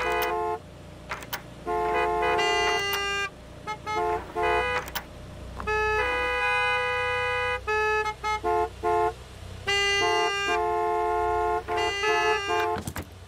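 Repeated car horn honks in the Gas Station Simulator video game, several long and short toots in an irregular pattern, loud and close, with a low background hum.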